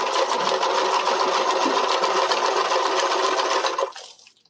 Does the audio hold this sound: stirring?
no